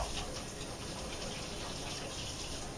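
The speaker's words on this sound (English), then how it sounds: "let me rinse my hands quickly" A kitchen tap runs steadily as hands are rinsed beneath it, a continuous close broadband gush of water with no break and no talking.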